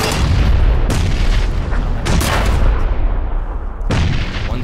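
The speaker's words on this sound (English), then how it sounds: "Lob grenades." Grenade explosions in PUBG, several heavy booming blasts in quick succession, loud and close with rumbling low-end tails between them.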